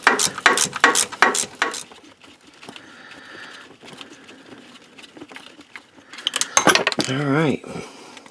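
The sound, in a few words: removing a bolt from transfer case encoder motor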